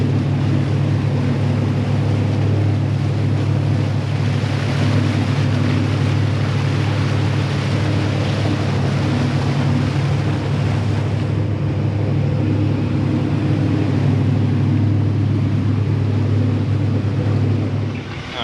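An old V8 engine in a 1986 Shamrock 20 boat idles with a steady, deep, throaty rumble, loud and close, running unchanged with no voices.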